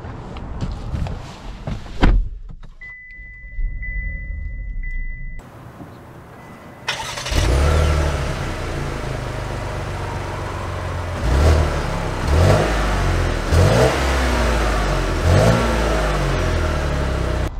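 A 2023 Cadillac XT6 Sport Platinum engine cranks and catches after a few quiet thuds, then settles into a loud, close idle. Several rising revs and accelerating surges follow, with no talking.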